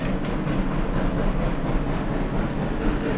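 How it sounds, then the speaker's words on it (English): A Durango and Silverton narrow gauge train rumbles past with a broad, steady roar and faint rattling of the cars, loud and continuous over a few seconds. "You can kind of see the train coming through those trees."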